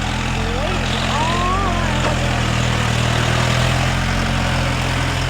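A tractor engine idles with a steady, loud low rumble that holds throughout, and a voice talks over it.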